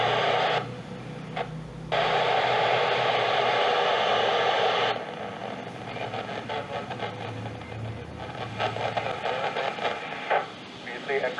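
Amateur radio transmission from the International Space Station picked up on a receiver, a steady wash of hissing static with faint broken voice-like bursts and brief dropouts, loud and continuous throughout.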